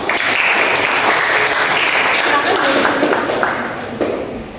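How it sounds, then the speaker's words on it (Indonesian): A classroom full of students claps steadily, loud and sustained, fading slightly toward the end. "Tepuk tangan untuk Miftah terlebih dahulu."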